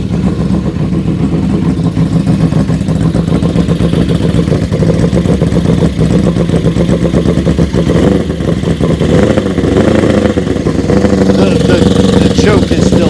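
Honda CB350 Four motorcycle engine idling slightly high with occasional revs, a loud, continuous close-up drone with mechanical clatter throughout, people talking over it.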